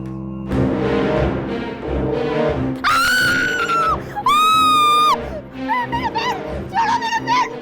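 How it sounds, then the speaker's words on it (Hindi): A woman in a Hindi horror drama lets out several loud, piercing screams in sustained bursts, mixed with frantic shouting and voices talking over tense background music. "तुम इस तरह क्यों चिल्ला रही हो?"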